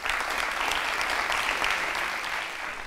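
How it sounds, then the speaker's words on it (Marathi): A studio audience at a television show applauds in a dense, steady wave of clapping that holds for about three seconds, with no voices over it. "एकदा जोरदार टाळ्यांचा गजर करूया"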